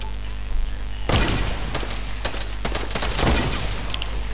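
Rapid bursts of Fortnite gunfire in a hunting-rifle-only match, starting loud after a second and continuing in broadband cracks with a few separate sharp reports over a steady game hum, no voices.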